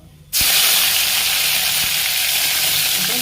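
Curry leaves and dried red chilies drop into hot oil for pudina chutney and burst into a loud, steady sizzle after a brief quiet start, with a few faint stirring clicks underneath.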